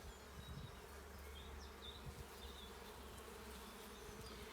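Honeybees buzz in an open hive during a routine late-April inspection, a steady, dense drone that holds without a break throughout, with no talking.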